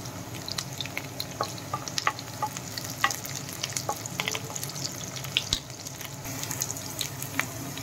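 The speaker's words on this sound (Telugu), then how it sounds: "ఉల్లిపాయ ముక్కలు కొంచెం ఫ్రై అయిన తర్వాత" Onion, green chili and curry leaves frying in oil for a masala ivy gourd curry, a steady crackling sizzle with scattered sharp pops and occasional stirring clinks, close and alone.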